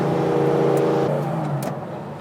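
Porsche 911 ST engine revving under throttle, a strong close mechanical drone with engine harmonics that climb briefly and then ease as the note drops away.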